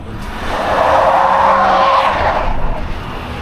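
A pickup truck stuck in a snowdrift, its engine revving hard as the wheels spin, a loud swelling whine that builds, holds for a couple of seconds, then fades.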